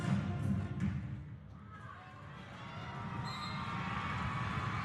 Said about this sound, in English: The crowd, listen to that.